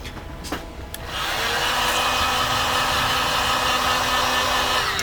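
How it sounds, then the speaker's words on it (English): A heat gun starts up after a brief quiet moment and then blows a steady, loud, even hiss of hot air, used to dry paint on handmade grassland terrain. "I'm just using the heat gun to speed up the drying process just a little bit"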